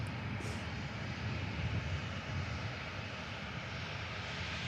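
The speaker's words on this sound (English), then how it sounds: "Ryanair UK coming in from Oslo, 737-800 series" Ryanair UK Boeing 737-800 landing at Manchester Airport, a steady broad engine roar held throughout at moderate distance.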